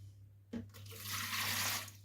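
Warm water pours into a bowl for bread dough in a home kitchen, a brief soft splash and then a steady hissing trickle lasting about a second, close and fairly quiet.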